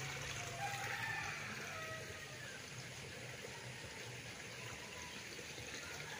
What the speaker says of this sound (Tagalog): Tapos ito yung bukal. Galing po ito sa property.